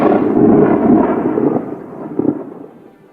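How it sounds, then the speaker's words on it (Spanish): A deep, loud thunderclap rumbles heavily for a few seconds, gives one sharper crack partway through and then fades, used as a dramatic effect in a nativity story about shepherds keeping watch at night. "De pronto un fuerte trueno los sobresaltó."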